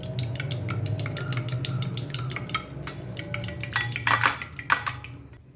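Chicken keema cutlet mixture with pepper being beaten in a bowl: a quick run of bright metallic clinks and scrapes of a utensil against the dish, steady and close, then a few heavier knocks near the end.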